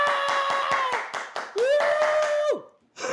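Hands clap repeatedly, about eight sharp, close claps at a steady rhythm, while a voice makes a sustained tonal bird-like whistle call over and after them.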